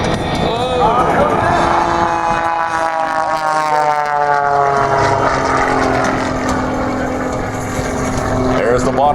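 Aerobatic airplane of the Red Eagles team flying backwards and rolling at the Abbotsford Airshow 2012, a loud, sustained propeller-engine drone with shifting pitch and Doppler sweeps, under a commentator's continuous talk.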